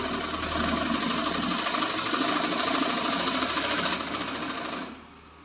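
Sewing machine running a steady, fast stitching chatter while hemming a single-folded pillow cover edge, continuous for about five seconds before slowing and stopping.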